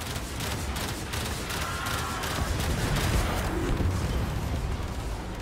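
Cannon fire in Warframe gameplay, a relentless close barrage of overlapping bursts and booms, loud and sustained, with faint voice chat underneath.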